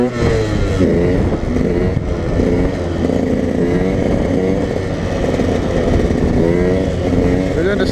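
A dirt bike engine drones loud and close while it rides slow wheelies on a flooded road, holding a steady throttle with rising and falling revs and no pause.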